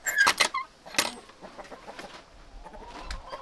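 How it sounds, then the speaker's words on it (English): Roosters cluck in a few sharp, close bursts followed by softer scattered clucks in a quiet farm coop. "looks like there's just a couple roosters in here"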